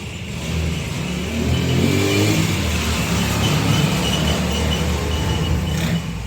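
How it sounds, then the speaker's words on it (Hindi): Road traffic with cars and rickshaws passing outside beside a road: a steady, fairly loud engine rumble fills the whole stretch, with a vehicle accelerating through the middle, no one talking. "ये रिक्शों की आवाज़ें और गाड़ियों की आवाज़ें ये थोड़ी बहुत आप लोगों को डिस्टर्ब करती रहेगी"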